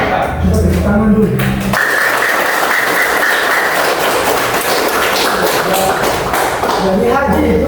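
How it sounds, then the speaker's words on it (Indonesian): A class of students claps on the teacher's prompt in an Indonesian religious studies lesson, a burst of fairly loud, close hand clapping that follows a short stretch of speech and later gives way to more talk. "Coba tepuk tangan dulu."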